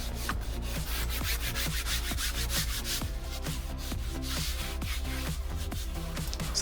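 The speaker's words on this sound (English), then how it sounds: "So a little bit of detergent on there, you can scrub over the plastics" Rhythmic back-and-forth scrubbing on the plastic dashboard of a 20-year-old VW Polo, a brush or cloth with detergent rubbing steadily in quick repeated strokes, close and continuous with no talking.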